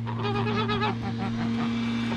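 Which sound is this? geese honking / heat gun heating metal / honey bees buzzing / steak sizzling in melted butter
geese honking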